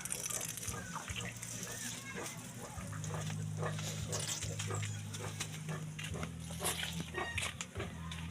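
Pigs on a farm grunt and squeal through a steady background, with water sounds and an occasional dog bark mixed in; the noise is continuous and moderately distant.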